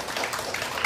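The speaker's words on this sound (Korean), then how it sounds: "큰 박수 부탁드립니다" Brief burst of audience applause as a professor is introduced at a Korean policy forum debate, an even patter of many hands clapping at moderate loudness.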